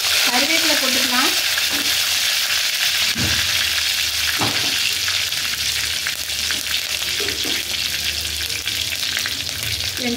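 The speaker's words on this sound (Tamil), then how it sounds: "கடுகு நல்லா பொரியட்டும்." Mustard seeds crackle and splutter in hot oil in a pan while Tamil crab curry is being made, a steady dense sizzle with scattered sharp pops and a few stirring scrapes, close and fairly loud, with no voices.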